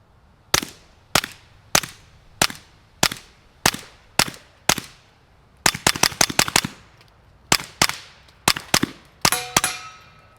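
A Smith & Wesson 22X pistol firing, sharp loud reports at a steady pace, then a quick rapid burst, then more spaced shots ending with a metallic ringing clatter.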